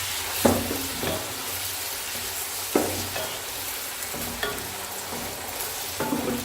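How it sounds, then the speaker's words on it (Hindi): Chicken pieces fry with browned onions in a pan for kareela gosht, giving a continuous sizzle punctuated by several sharp stirring knocks of a spoon against the pan, with no voices. "और चिकन को जो अच्छी तरह वो फ्राई कर लेंगे।"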